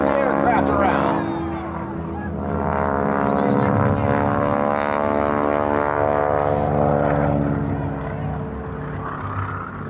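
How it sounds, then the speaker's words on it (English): A 450-horsepower Stearman biplane with an inverted fuel and oil system drones loudly through aerobatic knife-edge flight at an airshow, its steady radial-engine roar shifting in pitch while a commentator talks over it. "Watch as the aircraft will kick into knife edge flight. 450 horsepower, and then right at the top, he'll snap the aircraft around."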